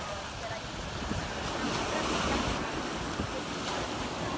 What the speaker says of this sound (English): I could spend the whole day watching these waves hit the sand here on Sand Key.